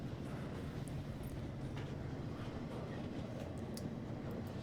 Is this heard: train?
yes